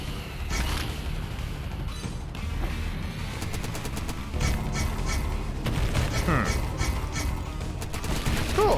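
A spike gun fires repeatedly in the Impaler demo, a first-person shooter, with sharp metallic shots and bursts scattered over a busy, noisy game soundscape.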